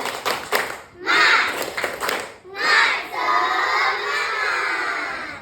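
Schoolchildren in a classroom perform a rhythmic spirit clap, sharp patterned hand claps in quick sets mixed with their chanting voices, close and lively, followed by sustained group vocalizing.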